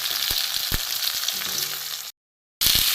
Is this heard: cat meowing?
no